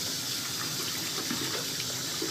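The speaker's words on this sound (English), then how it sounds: "Now I'm gonna commence to wetting my head." Water runs steadily from a tap as a head is wetted before shaving, a continuous close hiss and splash with small fluctuations and no voices.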